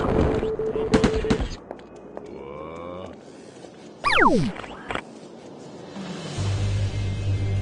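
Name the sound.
gunfire in the video game Destroy All Humans 2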